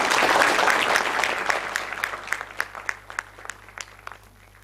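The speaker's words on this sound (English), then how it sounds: "So again, a round of applause." Round of applause at a national pharmacology conference, a dense burst of clapping from a large audience that starts loud and thins out into scattered individual claps.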